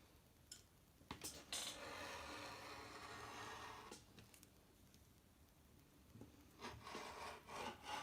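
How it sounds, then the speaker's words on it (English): Cotton fabric being cut with scissors along a paper pattern on the fold, a steady rasping, rubbing slice with short pauses and a few sharper snips, close and fairly quiet with no talking. "place this pattern on the fold of my fabric and go ahead and cut out 1"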